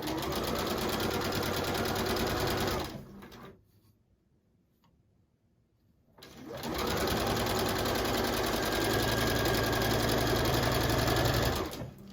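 A sewing machine runs in a fast, steady mechanical patter while stitching a seam on a table runner, stops for a few seconds of quiet, then starts again and stitches continuously to the end.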